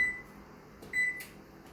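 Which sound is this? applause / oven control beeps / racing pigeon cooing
oven control beeps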